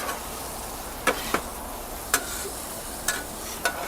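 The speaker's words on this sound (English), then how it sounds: "And we're just looking to saute these." Mushrooms and onions sauteing on an outdoor flat-top griddle, a steady hiss of sizzling under several sharp clicks and scrapes from a spatula at irregular intervals, with no talking.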